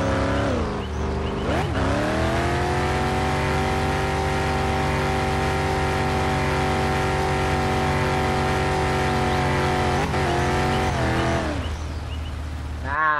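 A car in My Summer Car holds a steady, loud engine drone with a harmonic whine through a long drift, broken by brief pitch dips near the start and end.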